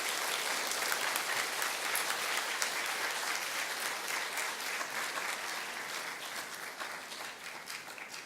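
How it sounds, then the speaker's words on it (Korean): A church congregation claps steadily and warmly throughout as a departing evangelist's family comes forward, dense sustained applause that eases slightly toward the end. "힘찬 박수로 환영해 주시기 부탁드립니다"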